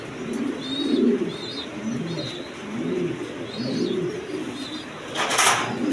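Pigeons cooing in a loft, repeated soft throaty coos in a steady rhythm from close by, with a brief burst of noise near the end.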